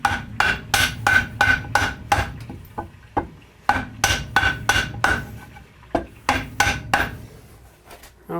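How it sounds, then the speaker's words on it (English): A hammer strikes a block set against a post and bracket while jacking up a house, sharp ringing blows in quick bursts of four to six, separated by short pauses, close and loud. "If you want to hammer it over, use a block so you're putting the post and the bracket."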